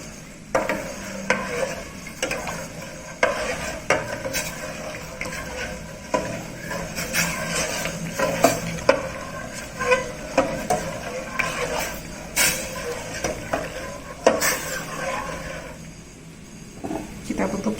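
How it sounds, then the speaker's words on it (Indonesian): A spoon stirs porridge in a pot while it cooks, making steady scraping and sloshing sounds with irregular clinks throughout. Someone talks over the stirring at times. "Sambil kita aduk-aduk,"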